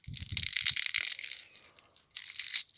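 Crisp, crackly snapping of a fresh cabbage leaf being broken apart, a few sharp crunches close up, then a pause and another brief crackle.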